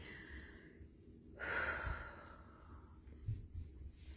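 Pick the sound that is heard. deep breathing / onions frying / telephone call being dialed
deep breathing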